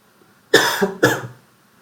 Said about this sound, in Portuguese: então dá uma tosse de vez em quando